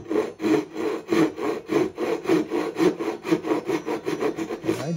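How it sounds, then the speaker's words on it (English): A thin-blade Japanese hand saw cuts wooden pins in steady, rhythmic rasping strokes, about two per second, close and clear with no talking. "I just like the way these thin blades work on the Japanese saws."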